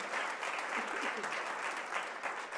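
A church congregation breaks into a burst of applause, close and sustained, a dense crowd of clapping hands filling the room with no speech over it.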